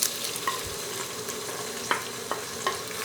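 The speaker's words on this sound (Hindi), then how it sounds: "तो प्याज अच्छे से पक जाने के बाद अब हम इसमें शामिल करेंगे जी टमाटर।" Chopped onions and tomatoes sizzle steadily in a pan for a beef kofta curry, with a few soft spoon scrapes and stirring clicks breaking through the close, continuous frying.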